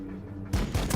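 Gunfire in the Warhammer 40k Battlesector video game: a few heavy, booming shots over a low rumbling game soundscape, close and loud.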